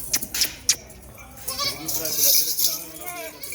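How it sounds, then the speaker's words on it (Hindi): Goat kids bleating beside their mother at a goat farm, several high wavering bleats, with a voice talking close by under and between the calls. "और ये बच्चे बकरी के देखें माशाल्लाह"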